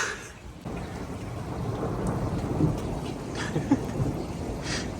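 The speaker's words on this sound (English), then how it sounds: "Do you hear the thunder and blue skies?" Thunder rumbles low and steady through falling rain during a garden storm, a broad continuous roll with a few brief louder swells, no voices present.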